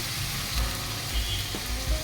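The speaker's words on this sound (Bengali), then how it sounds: "কিছুক্ষণ ভাজা ভাজা করে নেব হালকা ভেজে নিলাম আদা রসুন পেস্ট" Onion paste and ginger garlic paste fry in a pan, a soft steady sizzle close by with a few faint low thumps of stirring.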